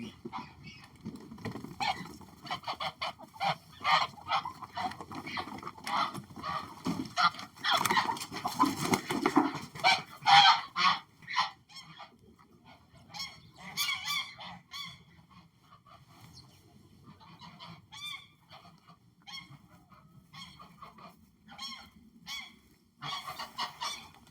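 Geese on a goose farm honk repeatedly in loud, overlapping bursts, several birds calling at once in a noisy, irregular chorus that thins out toward the end.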